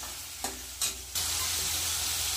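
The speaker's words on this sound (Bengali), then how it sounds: "আলুগুলো একটু লাল লাল করে ভেজে নেব।" Potatoes fry in oil in a wok, with two short scraping stirs before the loud, steady hiss of sizzling oil takes over.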